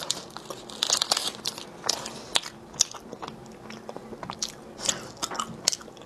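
Close crunchy bites and chewing of a cranberry-topped nougat-like treat, irregular crisp crackles and crunches repeating throughout, with no talking.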